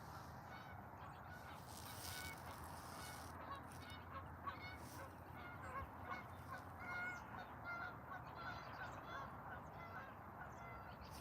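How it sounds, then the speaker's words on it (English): Geese honk as they fly overhead at an early spring sunset, a continuous chorus of overlapping nasal calls at moderate distance over a faint outdoor background. "Some of the geese are flying south there."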